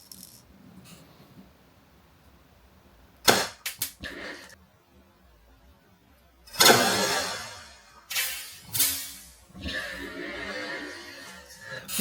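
Desert Eagle toy BB pistol fired at a sponge target: a quick cluster of sharp, close snapping cracks, followed later by louder hissing, rustling bursts and scattered thumps, with no talking.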